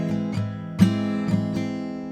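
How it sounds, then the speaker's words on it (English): Acoustic guitar strummed across four strings with the fifth string muted, four distinct strums in an even rhythm ringing with sustained harmonics, close and clear with no talking. "just strum those four strings"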